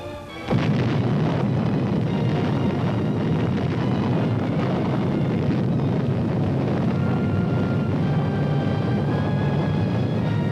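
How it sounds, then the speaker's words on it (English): Demolition charges blow up a floating bridge span, an abrupt heavy blast followed by a long, loud, rumbling roar that holds steady to the end. "Explosives attached, the order is given to destroy the floating span."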